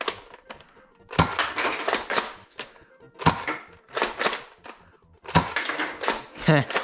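A BuzzBee Arsenal foam dart blaster fires darts in a sequence of sharp, close clicks and thunks, spaced irregularly with short quiet gaps between shots.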